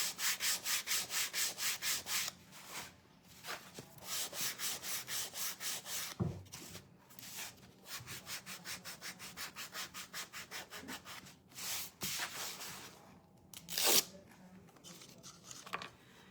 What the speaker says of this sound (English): These Gator sanders are the best thing since sliced bread